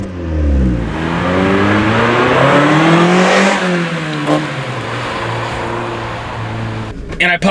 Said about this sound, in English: the Miata has a good sounding exhaust stock